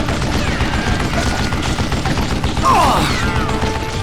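Dense gunfire crackles steadily in the Wild West shooter Call of Juarez: Gunslinger, a loud continuous fusillade of overlapping shots with a swelling burst and ricochet-like whines near the end.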